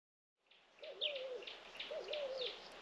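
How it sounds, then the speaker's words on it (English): Early-morning bird calls in the Southern African bush, soft repeated hooting or cooing notes in a slow two-phrase rhythm, faint and alone in the quiet. "You just hear the birds."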